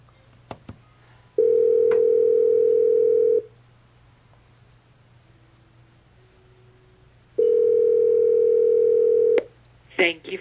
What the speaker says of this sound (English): So we dial an extension and we will wait for that coworker to answer.